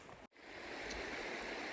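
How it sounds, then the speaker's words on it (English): A glacier-fed creek flowing out of Scott Glacier along the Athabasca Pass trail, heard as a steady, moderately close rush of water with a brief dropout at the start. "the creek that comes out of Scott Glacier, I decided to cross it"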